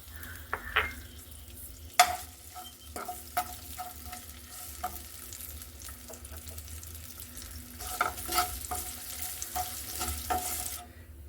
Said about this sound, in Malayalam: ആദ്യം നമുക്ക് തേങ്ങ വറുത്തെടുക്കാം.